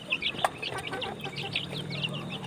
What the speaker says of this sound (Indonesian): kita kasih makan nasi lagi pada ayam Elba